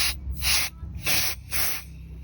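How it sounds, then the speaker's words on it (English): Four short bursts of compressed gas spraying from a duster nozzle into a pilot assembly hole, sharp hissing blasts separated by brief pauses, close to the microphone. "take your compressed gas duster, put the edge of the nozzle to the hole and give that a good spray"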